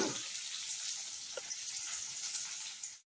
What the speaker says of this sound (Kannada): ಇದನ್ನು ತೊಳ್ಕೊಂಡು ನೀರು ಬಗ್ಸಿ ಮತ್ತೆ ಸ್ವಲ್ಪ ನೀರು ಹಾಕಿ ಸ್ವಲ್ಪ ನೆನೆಸಿಟ್ಕೊಳ್ಳೋಣ